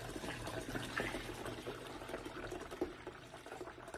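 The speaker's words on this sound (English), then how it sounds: "then I'm going to pour the remainder of the vinegar" Vinegar poured into a container as part of a homemade weed killer, giving a soft, continuous gurgling and splashing of liquid with a few small bubbly bursts, fairly quiet and close, with no talking.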